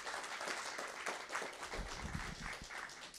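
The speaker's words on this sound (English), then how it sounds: "Let's give him a round of applause." An audience at a gathering gives a round of applause, a steady bed of clapping with a few low thumps and some faint voices mixed in.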